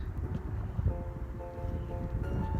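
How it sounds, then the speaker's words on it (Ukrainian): Steady roaring wind buffets the microphone, with rustling and flapping as gusts shake and bend a tent's fabric nearby, in the Canary Islands; no voices. "почався такий вітер, що я вже буду покидати палатку"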